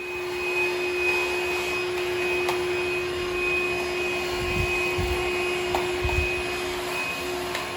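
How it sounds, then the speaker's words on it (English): The motor of a Hoover H-Free 800 cordless vacuum cleaner runs with a steady, high-pitched whine and a constant airy rush, holding a loud level with a few faint knocks and no talk. "Just going to give you a quick demo of the Hoover in action itself and seeing the motor run."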